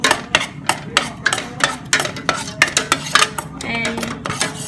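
Metal spoon or spatula clanking and scraping in a pot while Malaysian mee curry ingredients are mixed, a steady run of close, sharp knocks and clatters in an irregular rhythm.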